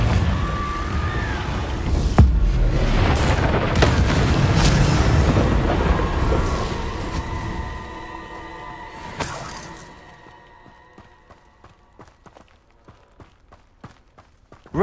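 A Confringo blasting spell goes off in the Hogwarts Legacy video game, a loud booming burst with a shattering crackle that rumbles for several seconds before fading into quieter ambient game sounds.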